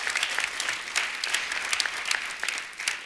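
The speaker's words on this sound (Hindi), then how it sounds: "जोरदार तालियां विशाल के लिए।" A television studio audience claps steadily for a guest named Vishal on a comedy talk show, a dense, even wash of applause at moderate level with sharper claps standing out, no speech.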